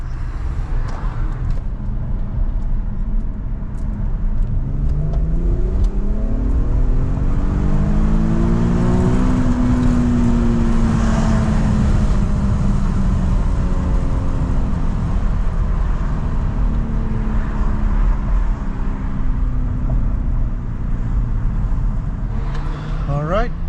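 A Nissan VQ37 V6 with a K&N drop-in filter accelerates hard in second gear, its engine note rising in a long sweep and then easing off, loud and close, with someone talking over it.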